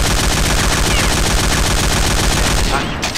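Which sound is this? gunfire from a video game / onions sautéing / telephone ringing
gunfire from a video game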